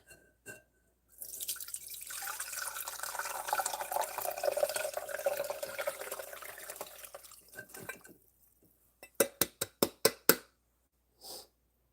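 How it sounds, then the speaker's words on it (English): Water runs in a steady stream for several seconds, then stops, leaving a quick series of distinct drips falling close by, with one last drip after a short pause. "I'm just gonna leave that to drip."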